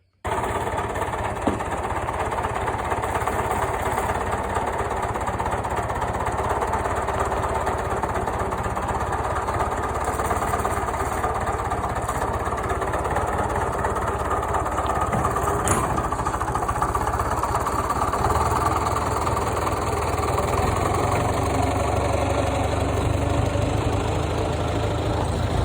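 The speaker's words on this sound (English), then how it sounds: "Deere F925, 3-cylinder Yanmar diesel" A John Deere F925 mower with a 3-cylinder Yanmar diesel and 72-inch deck runs steadily at idle on a hot day, a continuous close rumbling clatter with a high whine riding on top, without talking.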